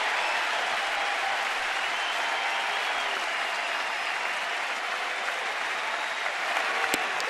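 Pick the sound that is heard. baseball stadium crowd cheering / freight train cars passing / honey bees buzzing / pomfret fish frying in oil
baseball stadium crowd cheering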